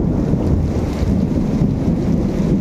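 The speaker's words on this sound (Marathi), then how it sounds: "जोराचा पाऊस आलाय बघा, विजांच्या कडकडाटासह" Heavy unseasonal rain with thunder in a coastal Konkan orchard of mango and coconut palms, a steady loud wash of rain and wind roar filling the whole stretch with no clear separate thunder crack.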